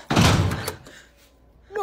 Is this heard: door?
yes